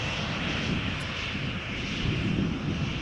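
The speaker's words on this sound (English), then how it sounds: "737 is accelerating off the runway" A Boeing 737 accelerates down the runway at Amsterdam Schiphol, producing a steady, loud roar of jet engines with no talking.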